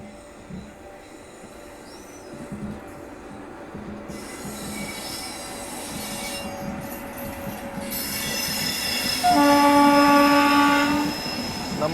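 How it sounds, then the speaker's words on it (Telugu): The Bhubaneshwar–Pune SF Express (22882) pulls out of a station, rumbling louder as it gathers pace, with high wheel squeal over the rolling clatter and a long horn blast near the end. "మన ట్రైన్ కూడా డిపార్ట్ అయిపోయింది."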